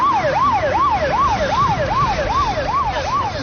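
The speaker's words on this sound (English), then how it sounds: "The ambulance running." A rising and falling ambulance siren wails in quick regular cycles, loud and steady for the whole stretch over a rumbling road-noise background, with no voices.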